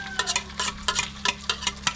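Eggs frying in oil preheated in a pan, giving a low steady sizzle with repeated sharp clinks and scrapes of a utensil against the pan, fairly close and with no talk.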